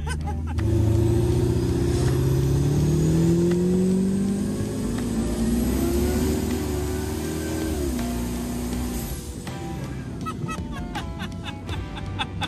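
A truck with a bone-stock 4L80 transmission revs hard while driving off-road, its engine note climbing and shifting steadily under rumbling road noise for the whole stretch, loud and close, with rattles toward the end.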